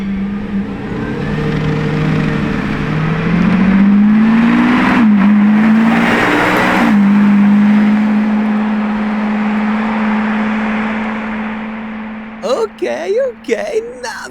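A Lamborghini Revuelto V12 roars as it accelerates past, rising in pitch with a shift in the middle before fading away. Near the end, voices talk excitedly.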